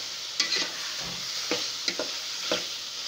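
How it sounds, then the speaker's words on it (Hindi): Ginger and garlic, pounded rather than ground, frying in a pan as they are stirred: a steady faint sizzle broken by a handful of brief scraping strokes, close by and with no voices. "तो अब हम थोड़ा सा भून लेंगे।"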